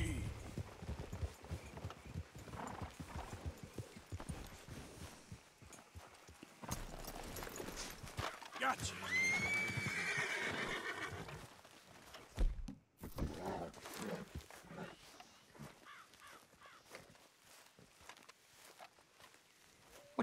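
Horse hooves clip-clop and thud in the video game Red Dead Redemption 2, rhythmic steps under ongoing character dialogue, with a brief whinny partway through.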